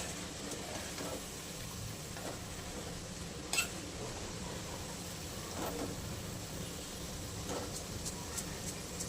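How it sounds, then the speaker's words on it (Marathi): Masoor lentils frying in hot oil until crisp, a steady soft sizzle with occasional clinks of a spoon against the pan. "असं ना असं कडक होईपर्यंत मसूर आपण तळून घेणार आहे नाही का."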